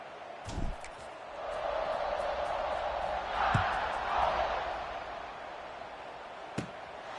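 Stadium crowd in a college football video game, a steady broad roar swelling and dipping through a kickoff, with a few sharp thuds and hits standing out near the start and end.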